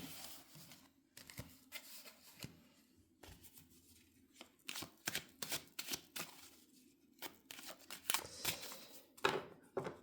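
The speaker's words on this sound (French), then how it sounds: "je vais prendre un autre jeu de cartes" A deck of tarot cards is shuffled and handled up close, giving a quiet run of rapid riffling and slapping bursts with brief pauses.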